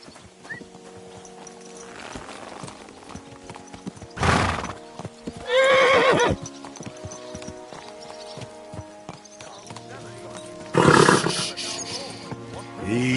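Horse in Kingdom Come Deliverance 2 whinnying in three loud bursts, each a few seconds long, with light hoof clip-clop between them over a quiet game backdrop.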